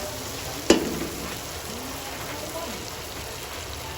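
Star margarine melts and sizzles in a cooking pot with a soft, even hiss, broken early by one sharp clack of a utensil against the pot.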